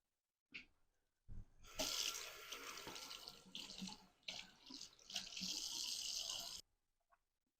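Bathroom sink tap running water over wool fabric, a steady close rush of flowing water lasting several seconds with brief splashing breaks, then shut off.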